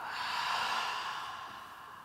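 A steady exhale during a yoga shoulder roll, one long airy breath swelling then easing off over about two seconds, close and soft, with no talking.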